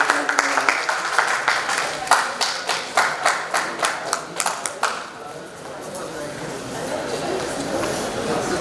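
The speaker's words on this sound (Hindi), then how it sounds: "एक बार जोरदार ताली से इनका आप लोग स्वागत अभिनंदन करें। तालियां बजती रहनी चाहिए।" An audience claps to welcome performers at a cultural evening put on by a folk art academy at a university. Loud rhythmic unison claps run for about five seconds, then fade into scattered applause and crowd murmur.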